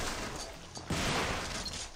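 A shotgun blast in Devil May Cry HD Collection, one booming shot near the middle over a muffled, noisy game background, fairly faint overall.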